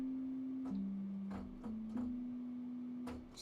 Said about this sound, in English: So here we've got a sine wave